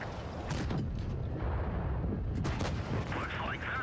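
A tank main gun fires in World of Tanks Blitz, a loud booming shot amid constant battle rumble and clatter, with a second burst of gunfire near the end.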